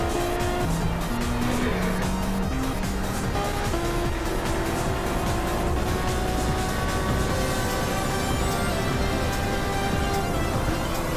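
Race cars in a video game roaring along a track, a close engine note that steadily climbs in pitch through gear changes, with other cars droning behind it.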